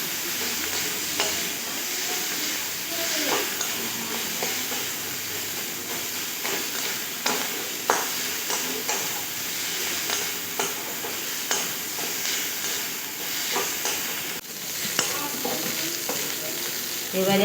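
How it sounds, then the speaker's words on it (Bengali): Onion, garlic and ginger paste frying together in a pan, a steady close sizzle with scattered stirring scrapes and clicks throughout, no voices. "এবারে তিনটিকে একসঙ্গে খুব ভালো করে ভেজে নেব।"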